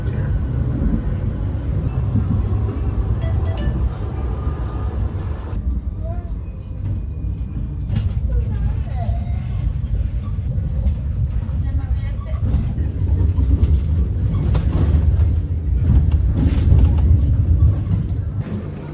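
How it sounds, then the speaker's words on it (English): A tram passing at speed on a Brussels street, a continuous low rumble and rolling rail noise that swells and shifts over time, with other traffic and a person speaking underneath. "The trams can go so fast here."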